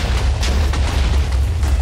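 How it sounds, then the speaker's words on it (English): A loud video game explosion in a player-versus-player match, a sustained deep booming roar with a few sharper bursts rolling through it, close and alone. "Explode, explode, explode."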